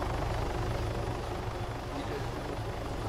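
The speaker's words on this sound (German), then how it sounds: "Der scheiß Heli ist direkt über mir" Helicopter directly overhead, a loud steady rotor thrum and pulsing beat filling the whole stretch without letup, close and constant.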